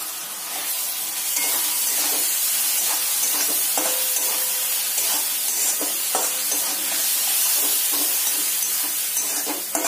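Tomato puree being stirred into soft, steamed vegetables in a pan, with a steady sizzle and hiss broken by soft scraping strokes, close and continuous, with no talking.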